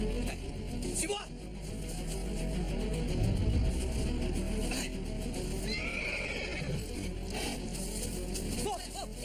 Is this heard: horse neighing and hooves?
yes